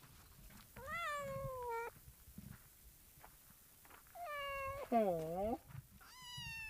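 A cat out in a remote desert spot meows several times, drawn-out rising and falling cries spaced over a few seconds, close and clear, with a person speaking softly between them.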